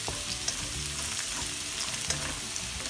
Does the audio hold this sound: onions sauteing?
yes